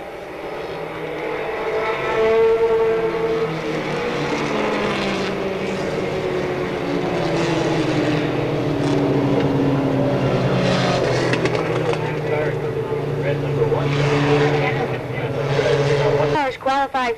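Stock cars race at Monadnock Speedway, their engines droning and roaring steadily as they pass, loud and continuous under an announcer talking over a PA.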